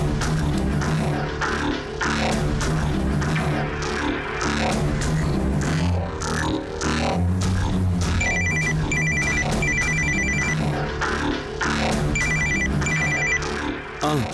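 A telephone rings in repeated bursts of electronic trills, clear and fairly loud over a steady background of music and room noise.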